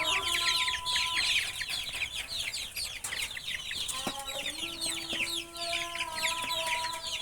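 Layer hens clucking and chattering busily as they gather for feed, many overlapping birds close by with sharp calls and a few longer notes, plus faint background rustling.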